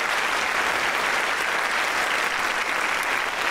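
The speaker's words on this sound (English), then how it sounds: "let's give a round of applause for all our nominees today." An audience at an Australian football rising star award ceremony gives the nominees a round of applause, dense continuous clapping that stays loud and even from start to finish, with no voices.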